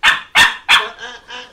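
A puppy gives three sharp, loud barks close by, then two softer, lower yips trailing off, with no talk over them.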